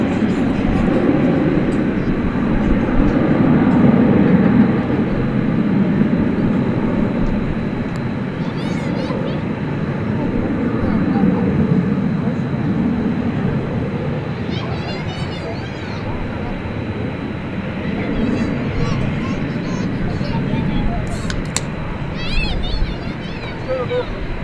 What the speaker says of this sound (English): American Flight 2288 rolling through there.